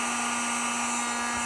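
A hair dryer heating sticker glue on glass gives off a steady, loud whirring hum with a constant tone. It runs on alone, with no talk.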